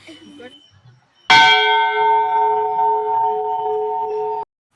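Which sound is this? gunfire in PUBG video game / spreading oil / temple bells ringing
temple bells ringing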